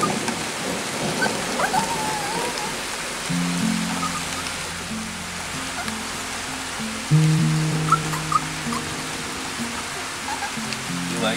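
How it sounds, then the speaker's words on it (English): Steady rain pours through a thunderstorm over dry ground, a continuous wash of drops broken by low rumbles of thunder, with a faint tonal hum running beneath in places. "thunderstorm couldn't have come at a better time."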